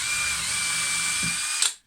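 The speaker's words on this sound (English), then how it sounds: "So you just drill a little hole, so that you get one leg in first." A power drill bores a small hole into a wooden turned bird to seat one leg, a loud steady high whine held for over a second before cutting off abruptly.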